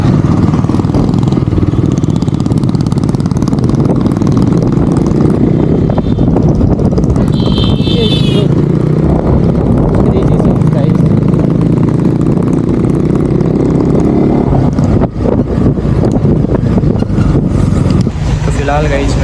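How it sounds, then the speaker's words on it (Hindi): An army truck engine rumbles past on a road near a petrol pump, a loud, continuous low motor drone heard from close by, with a person speaking over it throughout. "आर्मी ट्रक आ रहेगा जिसको जाने ही देते हैं।"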